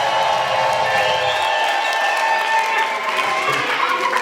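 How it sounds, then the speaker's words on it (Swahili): A church crowd gathered for an archbishop's visit in Mbeya breaks into applause and cheering, a loud continuous wash of clapping and voices that holds for the whole stretch. "Pigie makofi watu,"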